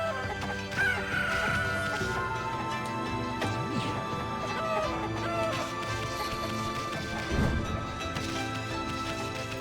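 Chickens clucking in the Okami video game, a cluster of fowl calls and a crowing rooster over game music and scattered clatter and crash effects.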